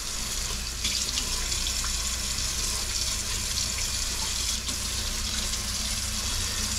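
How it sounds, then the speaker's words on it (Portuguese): Water from a kitchen tap runs steadily into a sink as a knife is washed under it, a close, continuous splashing rush with no talking. "Vou lavar a faca aqui."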